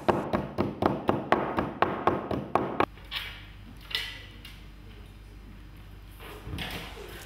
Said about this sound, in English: steady and careful pounding with heavy brushes begins